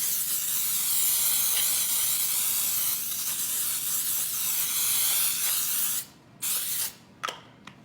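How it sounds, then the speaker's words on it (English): Baker's Joy baking spray is applied to a muffin tin in a long, continuous close hiss that breaks into a few short bursts near the end. "I spray the tin really, really well with Baker's Joy"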